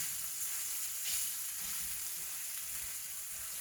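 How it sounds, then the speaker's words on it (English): Ground sausage sizzles and fries steadily in a hot pan over heat turned below medium, a continuous close crackle with faint scraping as the meat is flattened across the bottom. "I'm just flattening this ground sausage across the bottom of the pan"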